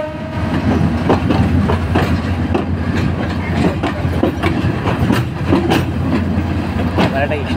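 A train rolls into a platform at Parbatipur railway station with a continuous rumble and rhythmic clickety-clack of wheels over rail joints, loud and close. A voice talks over it at times.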